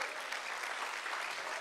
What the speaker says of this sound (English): Let's give them a big hand clap